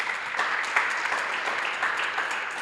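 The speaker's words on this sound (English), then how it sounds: "let's give her a round of applause" Audience applause at a school district education launch event, a steady wash of clapping from a crowd that holds at an even level throughout.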